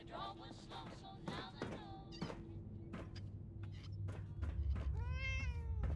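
Several cat meows in Fallout, close and clear, repeating over a low steady game background hum, with the last meow drawn out and rising.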